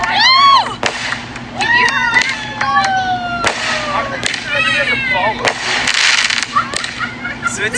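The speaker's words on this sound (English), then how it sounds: "of all the places for that firework to go" Fireworks go off in a chaotic burst of sharp cracks, pops and whistling, swooping rockets, with a crowd shouting and screaming around them at close range.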